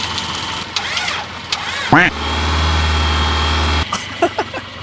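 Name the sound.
go-kart engine running and rattling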